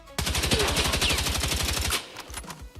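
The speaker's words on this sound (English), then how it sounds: "I'll stand here, aim at this wall, and I'll shoot, and I won't control recoil." A burst of rapid automatic gunfire from a Battlefield 6 weapon, fired at a wall without recoil control, runs loud and close for about two seconds, then trails off into a few scattered shots.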